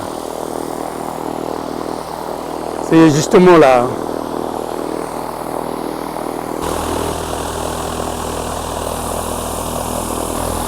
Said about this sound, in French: Il y a un avion qui va partir maintenant tout de suite.